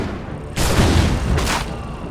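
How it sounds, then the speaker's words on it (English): Heavy gunfire from shooters in Assassin's Creed III, a loud booming burst that hits suddenly and rolls on as a dense fusillade, with a second swell of shots near the end. "They're shooting at the crew!"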